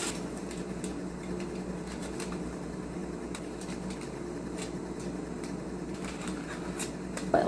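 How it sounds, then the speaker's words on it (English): Aluminium foil being handled while foiling hair, with scattered quiet crinkles and rustles over a soft steady room hum, close by and faint. "Yeah, we're gonna foil this."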